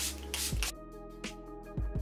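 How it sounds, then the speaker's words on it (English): Milani Make It Last setting spray misted from a pump bottle in several short hissing bursts, with quiet pauses between the sprays, heard close up with no talking. "I'm gonna take my Milani Make It Last setting spray and mango coconut."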